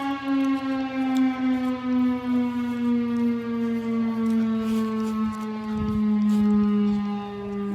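A tornado siren wails outdoors, one long sustained rising and falling tone that stays loud throughout, with a brief thump of wind or handling near the six-second mark.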